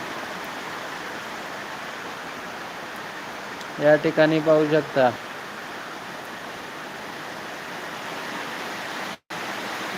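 Heavy rain pouring on a Sunday afternoon near a Balumama temple, a dense steady roar throughout, with a brief stretch of speech in the middle over the downpour.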